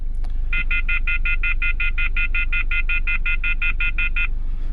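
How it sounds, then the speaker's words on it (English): A rapid, steady run of about twenty identical high electronic beeps, loud and close, over a low engine hum. "it will make a noise to remind me to remove the cable from the car"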